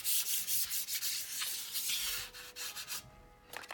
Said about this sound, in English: I just simply give it a good rub all over my card, like so